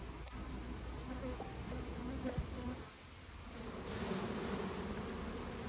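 Honey bees swarm around a multi-storey beehive during a hive inspection, their dense buzzing a constant faint hum with individual bees droning past close by, and no talking.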